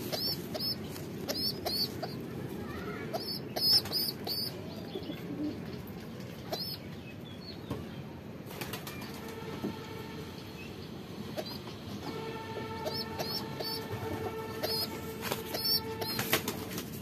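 Domestic pigeons being treated for eye problems coo softly and repeatedly while wings flap and flutter in short bursts nearby. The sound is steady and close, with no talking.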